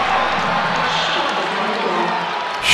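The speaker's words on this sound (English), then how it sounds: "Big hand from the crowd." Basketball crowd cheering and applauding after a made shot: a broad, steady wash of noise from a large crowd, sustained for a few seconds, with a commentator talking over it.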